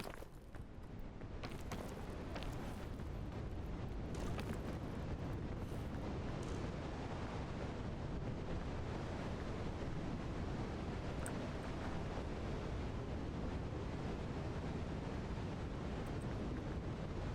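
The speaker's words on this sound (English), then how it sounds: "The wind is just never ending." Wind howling in the climbing video game PEAK, a dense, steady roar that fills the whole stretch without letup, with a few brief clicks near the start.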